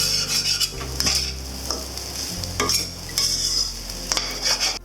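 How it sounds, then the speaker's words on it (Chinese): Silverfish egg fried rice with chopped scallions being stir-fried in a pan, a steady sizzle under repeated scraping and clinking of the utensil against the metal, loud and close. "撒上葱花，翻炒一下下"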